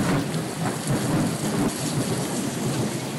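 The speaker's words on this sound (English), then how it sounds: "I had one close call when lightning cracked and thunder roared over my head." Thunder rumbles overhead through a heavy downpour in a thunderstorm, rain pouring steadily off a roof with a loud, continuous roar and a deep rolling boom.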